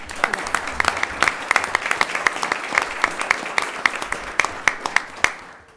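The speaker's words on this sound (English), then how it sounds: "Yeah, you can clap." An audience at a state board of education meeting applauds steadily for several seconds, with dense, distinct claps throughout and a few sharper hits standing out, fairly close and loud.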